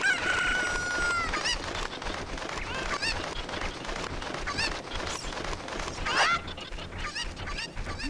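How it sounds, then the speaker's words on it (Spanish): Cucco chickens in the Nintendo 64 game The Legend of Zelda: Ocarina of Time cluck and crow as game sound effects, steady and loud with repeated rising calls over continuous game audio. "La última gallina, señora."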